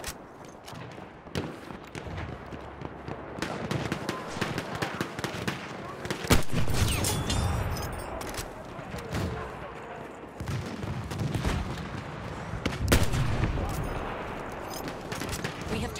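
Gunfire fills a Battlefield 1 multiplayer match played on PS4 Pro, with a Martini-Henry sniper among the weapons: repeated sharp shots and distant volleys crack over a rumbling battlefield, with voices talking now and then.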